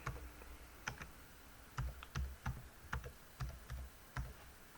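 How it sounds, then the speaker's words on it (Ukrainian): Quiet keystrokes on a computer keyboard as a password is typed, in an irregular string of soft, close clicks with no talk. "Двічі пишемо пароль."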